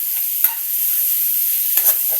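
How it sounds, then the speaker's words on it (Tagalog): Pork browning in a hot pan while cooking banana heart: a loud, steady sizzle of frying with a couple of quick stirring scrapes, no talking. "Sabayaan natin mag-brown ng konti yung pork"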